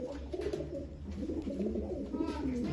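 Domestic old-line pigeons in a Bangalore loft coo in soft, rolling throaty phrases, close and continuous, with faint low background noise.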